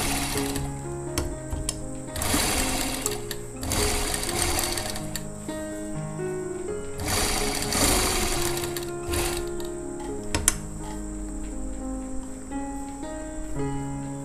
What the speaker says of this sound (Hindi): ते हल्के हल्के हत्थां नाल आपां ने सिलाई लाउणी आ